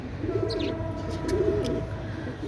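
Pigeons cooing close by in soft, repeated rolling calls over a low background hum, with a few faint chirps above.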